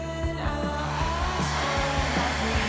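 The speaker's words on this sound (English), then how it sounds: "use a blow dryer, get it nice and warm, about 30 seconds" A blow dryer warming carbon-pattern vinyl wrap on a Traxxas Rustler RC car chassis, giving a steady close whirring hum with a pulsing motor drone that runs throughout, with no talk.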